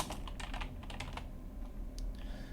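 Rapid, irregular keystrokes on a computer keyboard while code is typed, a close, steady clatter of soft clicks with a few brief pauses and no talking.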